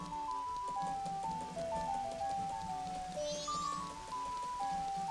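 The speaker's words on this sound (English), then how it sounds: "Oh, it's raining today." Rain falls in The Legend of Zelda: Majora's Mask, a soft, steady patter heard under a looping melodic game music track, with no talk.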